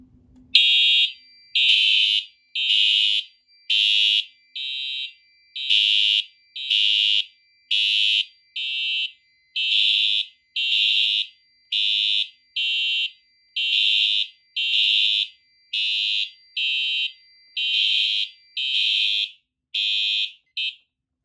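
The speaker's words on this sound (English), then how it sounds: "I'm going to go ahead and activate the smoke detector by just spraying some smokes." A loud Fire-Lite MS-5UD fire alarm panel, set off by spraying smoke into a smoke detector, sounds in a steady repeating pattern of high-pitched electronic beeps, about one per second, with nothing else audible.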